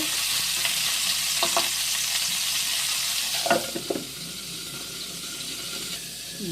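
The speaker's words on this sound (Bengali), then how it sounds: "ঢাকা দিয়ে দিয়ে ভেজে নিচ্ছি" Continuous hissing sizzle of pointed gourd frying in a covered pan, with a few brief stirring scrapes partway through.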